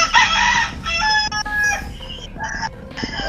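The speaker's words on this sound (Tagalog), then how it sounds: "Bata Idol, gutom na yung manok mo." A rooster crows loudly and close, letting out several drawn-out calls in a row that are broken up by short clucks, with no voices over it.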